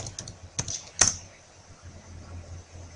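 A few quick keystrokes on a computer keyboard while typing a web search, close and sharp, followed by a quiet pause with faint background hum.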